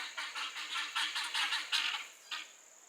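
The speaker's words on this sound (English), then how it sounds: "they are huge birds" Large homestead turkeys gobble in a quick run of repeated calls, fairly close and moderately loud, a burst of gobbling that pauses briefly before one last call.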